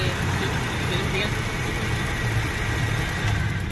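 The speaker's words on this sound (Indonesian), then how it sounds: "suara mesin halus" Toyota Kijang Innova engine idling smoothly, a steady low rumble held at even loudness throughout with no breaks.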